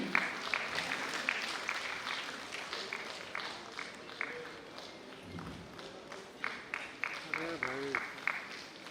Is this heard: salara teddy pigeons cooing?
no